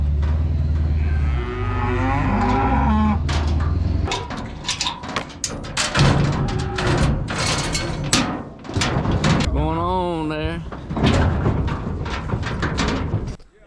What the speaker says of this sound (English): This herd of cows is a Brangus mix.